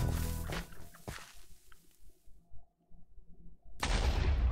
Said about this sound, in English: let's see if you can survive a TNT explosion